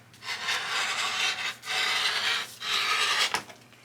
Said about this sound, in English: Cut all 3 fabrics.